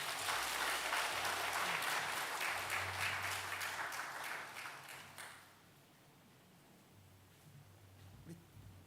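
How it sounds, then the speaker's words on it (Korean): A church congregation claps steadily for about five seconds during a Sunday morning service, a dense patter of applause in a large room, then it fades out into quiet background noise. "우리 축하의 박수 부탁드리겠습니다."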